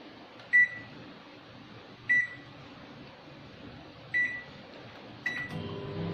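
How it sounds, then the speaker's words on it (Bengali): A microwave oven warms food for a brown bread breakfast sandwich: four short, clear electronic beeps sound a second or two apart, and a low, steady hum starts after the last one. "এবার এটাকে চলো মাইক্রোওভেনে বসিয়ে দিলাম। এবার এটাকে গরম করে নেব।"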